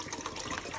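About 1.5 liters of water pours into a container for a batch of limoncello, making a steady, close, hissing gush throughout.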